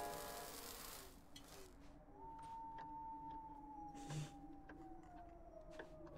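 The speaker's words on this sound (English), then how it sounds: "I hear the werewolves howling." Werewolves howl in a video game, a long wavering tone that slowly glides downward and sounds somewhat distant over a soft background bed.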